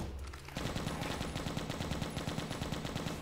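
Heavy machine gun fire cutting down zombies in the mobile game Left to Survive, the weapon recently upgraded: after a short lull, dense rapid bursts run continuously, loud and close, with steady rhythmic reports.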